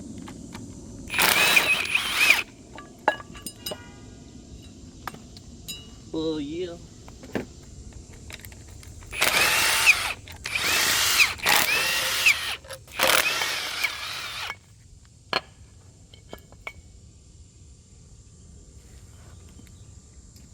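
Power tool used to remove bolts from a blown-up Honda D-Series engine, several loud bursts of whirring impact with pauses between, a brief voice speaking, and clanks of tools close by.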